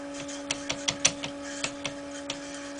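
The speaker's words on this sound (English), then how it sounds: "there you can see the Z motor spinning" A DIY 3D printer's Z stepper motor spins, giving a series of light, regular ticks and clicks over a steady electrical whine.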